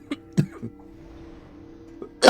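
A few short, sharp coughs spaced apart, fairly close, with a louder burst at the very end and quiet in between.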